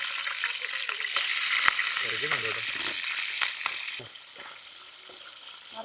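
River crabs fry in hot oil in a pan, making a dense, loud crackling sizzle with sharp pops. The sound eases to a softer hiss after about four seconds, and a voice murmurs briefly underneath.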